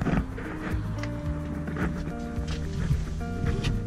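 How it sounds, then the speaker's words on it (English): A mechanical pump hums and whirs with shifting pitch, running continuously at close range. "you could hear the pump going"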